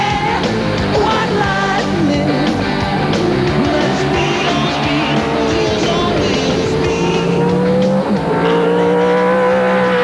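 V8 Supercars from Australia racing at the 1996 Auckland sprint races, engines roaring loudly and continuously with rising and falling pitch as cars pass, tyres squealing through the corners.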